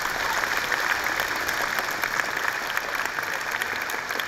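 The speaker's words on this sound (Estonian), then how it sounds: "tehke üks suur aplaus iseendale" Applause from a school audience at a high school anniversary assembly: a dense, steady wash of many hands clapping that stays loud and even throughout, with no voices over it.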